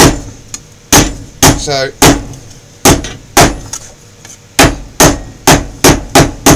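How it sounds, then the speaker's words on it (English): A hammer pounds a piece of metal flat in a steady series of loud, sharp metallic strikes about every half second, close up, with a brief spoken word between blows. "Everybody likes to pound things with hammers"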